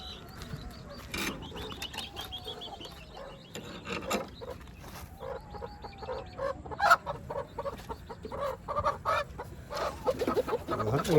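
Chickens cluck and a rooster calls repeatedly in a busy farmyard at a Sri Lankan Tamil refugee camp, with scratching and rustling close by and no talking.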